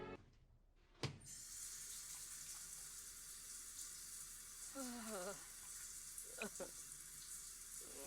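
Steady hissing spray of a Sim's shower in The Sims 4 runs throughout, with brief game chimes and sound effects layered over the constant water.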